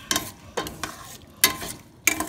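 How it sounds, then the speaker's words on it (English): Shrimp sauté in butter in a pan for a crawfish étouffée, a low sizzle broken by a few sharp, close scrapes and stirs of a utensil against the pan. "I'm going to let that heat back up with the butter. I'm going to saute that"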